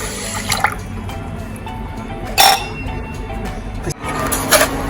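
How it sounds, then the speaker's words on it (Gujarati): Water splashes and pours into a pan for peanut sugar syrup in a home kitchen, with brief louder bursts against a steady background hiss and low hum. "અડધો ગ્લાસ જેટલું પાણી એડ કરીશું"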